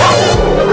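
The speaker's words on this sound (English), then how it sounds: "A dog barked at them and they ran too." A dog barking in a children's Halloween rhyme, a short, loud, close bow-wow that fills the brief moment with no speech over it.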